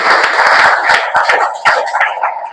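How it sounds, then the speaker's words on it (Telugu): Church congregation clapping hands loudly together, a close, dense burst of sharp claps that carries on for a couple of seconds with a faint voice underneath. "గట్టిగా కొట్టు చప్పట్లు."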